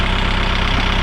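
A loud, close tractor engine runs steadily while its hydraulics hold a heavy load on wet ground, giving a continuous rumbling drone with no voices.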